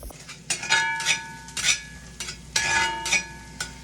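Garlic, onion, green zucchini and mushroom stems frying in butter over high flame for fried rice, stirred in quick bursts; rhythmic scraping and clinking strokes of a spatula on the pan, about six sharp clusters over a low sizzle.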